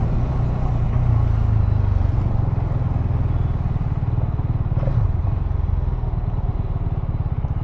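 Hero Xtreme 250R motorcycle ridden over bumps, a loud close continuous engine drone with rattling clatter from the suspension and chassis, steady throughout with no talk over it.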